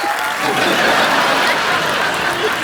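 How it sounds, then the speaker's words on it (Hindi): A studio audience at a comedy talk show claps in a loud, steady burst of applause that lasts the whole stretch, with faint chuckles mixed in. "एक बार अनिल सर, हर्षवर्धन और संयमी के लिए जोरदार तालियां।"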